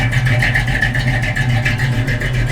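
A 1964 Chevrolet Nova SS with a performance cam idles close by, its engine giving a steady, lumpy, loping rumble with a rhythmic pulse and no talk over it.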